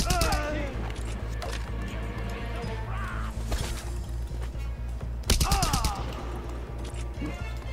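Rapid bursts of gunfire in the video game Just Cause 2 rattle in quick repeated shots, pausing then resuming with sharp loud cracks amid mechanical clanks and whirring.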